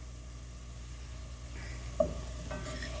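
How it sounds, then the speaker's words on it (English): Flour roux for chicken gumbo cooking to a golden brown in a pot, a faint steady sizzle with a single clear scrape of a stir partway through, quiet and close. "And with the roux, you do want to stir because you want to move it around."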